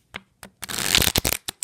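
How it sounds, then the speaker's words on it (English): Artifice playing cards are shuffled by hand, a few quick flicks followed by a dense riffling burst and short snaps, close and crisp with no talking. "I shuffle very well."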